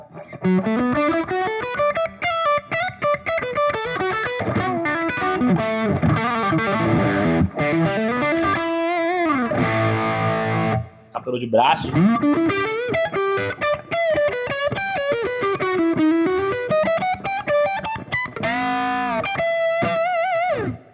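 Electric guitar through the Audio Singularity Tangie amp plugin, dialed to a thick, full Les Paul style tone, plays continuous distorted melodic lines with a brief drop out near the middle. A short spoken phrase is briefly heard.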